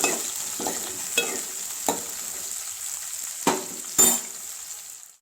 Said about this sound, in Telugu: ఆనియన్ వేసి బాగా కలపాలి.